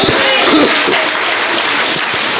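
A congregation at an Ebenezer Church revival gathering breaks into loud, close applause, a thick burst of clapping that holds steady for a couple of seconds with no talk over it.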